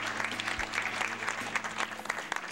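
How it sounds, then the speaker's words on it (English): A pageant audience applauds contestants with fairly faint but continuous clapping and a low hum underneath, sustained across the whole stretch. "Let's give them a big round of applause"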